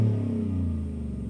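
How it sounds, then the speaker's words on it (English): A supercharged V8 in a 2023 Shelby Super Snake F-150 with a Shelby-tuned Borla exhaust rumbles close by. Its deep, steady revving note slowly eases off over the short stretch. "you also have this Shelby-tuned Borla exhaust system with these gloss black tips. It's an amazing sounding car."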